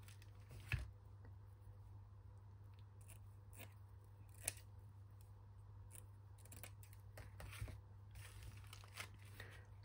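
Scissors snip through a paper folder piece for a handmade mini journal, a few sharp, quiet cuts spaced out over a faint steady hum, with no talking.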